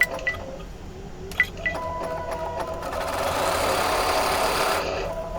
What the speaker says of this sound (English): right now we're going to stitch the placement line